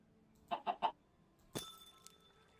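A chicken clucking in Minecraft Bedrock Edition, three quick close clucks in a row followed by a single sharper squawk, with quiet in between.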